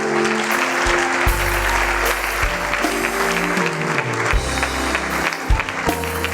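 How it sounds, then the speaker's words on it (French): A church congregation bursts into sustained applause in acclaim of the Lord, dense steady clapping from many hands filling the room, with organ or keyboard chords held underneath throughout. "Quelqu'un acclame le Seigneur pour eux."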